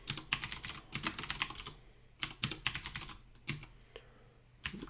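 Close-up typing on a computer keyboard, quick bursts of clattering keystrokes separated by short pauses, no voices.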